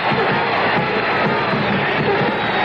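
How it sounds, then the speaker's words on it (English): Basketball arena crowd cheering for Pete Maravich during an NBA game, a loud, steady roar of many fans that holds without a break from start to finish. "The fans cheering for Pete."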